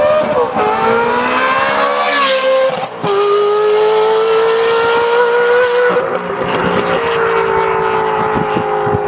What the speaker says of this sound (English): this S-Line exhaust just sounds fantastic.